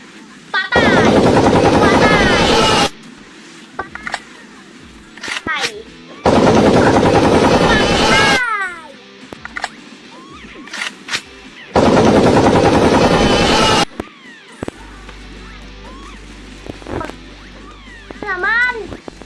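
Three loud bursts of rapid video game gunfire, each lasting a couple of seconds, separated by quieter stretches with a voice exclaiming and game sounds.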